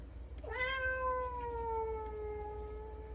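A single drawn-out cat meow, close and clear, starting high and sliding slowly downward over a couple of seconds against a low steady background hum.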